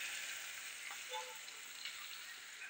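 Onions sautéing in a pan for umaç soup give a soft, steady sizzling hiss, fairly faint and even throughout, with no talking.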